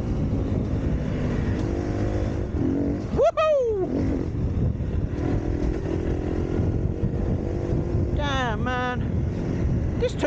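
A 250 motorcycle engine drones steadily while being ridden, mixed with heavy wind rush, and the revs climb sharply in two quick bursts, once early and again near the end.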